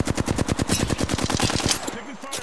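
Rapid automatic gunfire in an online shooter game, a fast, steady burst of loud, close machine-gun shots lasting about two seconds before cutting off, with a voice briefly heard near the end.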